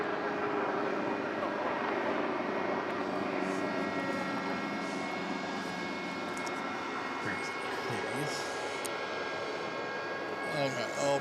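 Helicopter flying near Melbourne Airport in the evening, a steady engine and rotor drone holding through the whole stretch, with faint other sounds late on.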